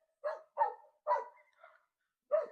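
Dogs in a Ukrainian village bark in a few separate, moderately distant woofs with short gaps between them, then a final bark after a longer pause, all against quiet surroundings.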